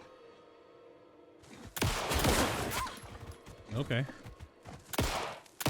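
After a quiet start, rapid bursts of gunfire erupt in the video game Alan Wake II, loud and clustered, with a brief spoken word in between.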